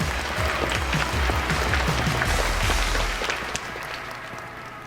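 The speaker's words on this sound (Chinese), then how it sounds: "来掌声有请" Audience applause welcomes the next guest, a startup-sharing speaker, onto a stage at an entrepreneurship event: a broad, steady wash of clapping throughout that tapers slightly toward the end, with no voices over it.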